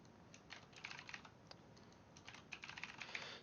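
Quiet typing on a computer keyboard, irregular clusters of light clicking keystrokes with brief pauses between bursts, close and soft with no voices.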